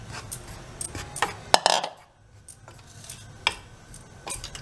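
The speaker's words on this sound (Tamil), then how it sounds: "கிளறி விட்டுக்கிட்டே இருக்கணும் இல்லையா?" Flour stirred and roasted in a metal pan for diamond biscuits, with a spoon repeatedly scraping and clinking against the pan in irregular bursts, close and moderately loud, with a brief quiet gap midway.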